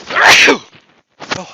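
A single loud, abrupt sneeze bursts out, followed by a brief pause and a short spoken exclamation.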